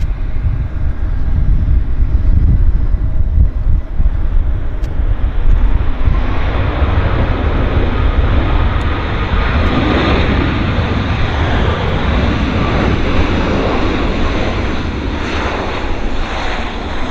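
A Philippine Airlines airliner at Vancouver airport, its jet engine roar steady and loud throughout, a broad rumbling wash that swells slightly in the second half, with no talk.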